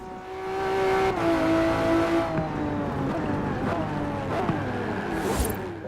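In the racing video game Forza Horizon 4, the Hot Wheels Twin Mill roars through shifting revs, climbing and dropping in pitch as it accelerates and brakes, loud and up close with a brief tire squeal.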